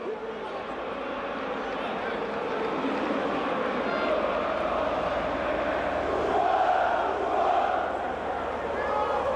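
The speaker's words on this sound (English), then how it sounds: "The home crowd trying to do their bit." The home crowd at Napoli's stadium roars and chants in a steady, far-off wash during a Serie A match against Atalanta. A commentator speaks over the noise.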